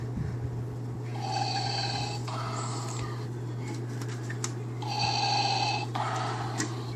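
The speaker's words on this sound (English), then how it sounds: "It does the whole Darth Vader breathing thing." A Transformers toy's mechanical heavy breathing, Darth Vader style, slow rasping inhales and exhales in two long bursts over a steady electrical hum, close by.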